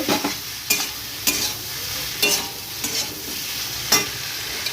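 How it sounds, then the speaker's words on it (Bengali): A spoon scrapes and stirs spices with cumin paste frying in a pan for a Bengali hilsa fish dish, in regular strokes about once a second over a steady, loud sizzle. "জিরে দেওয়া বাটা দেওয়ার পর আবার একটু নাড়াচাড়া করে নেব"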